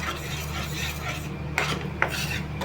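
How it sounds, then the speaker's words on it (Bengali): Chilli powder and ginger paste being sautéed in a pan, a low steady sizzle with a couple of brief metal scrapes from a spatula, close with no talk. "এবার খুব ভালো করে না এগুলো কষিয়ে নেব"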